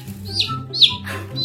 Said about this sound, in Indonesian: Kalian tahu gak? Aku dibeliin ayam dong.